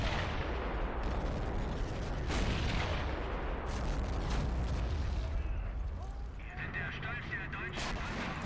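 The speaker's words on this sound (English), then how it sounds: "Then we'll try to target that 40mm with our mortar" Mortar rounds in the Men of War: Assault Squad battle game hit around a German 40mm gun amid a steady din of gunfire, with several sharp blasts standing out from the loud, continuous combat noise.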